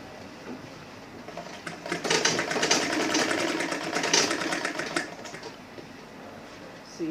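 A sewing machine stitches leather trim on an Ankara handbag in one sustained burst of fast rhythmic clatter lasting a few seconds, rising out of quieter room noise and fading back down.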